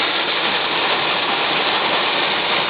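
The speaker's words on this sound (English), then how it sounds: "Look at that rain." Heavy rain pours in a high-wind thunderstorm near Valentine, Nebraska, with 60–80 mph winds, making a loud, dense, unbroken hiss and roar of water with no voices over it.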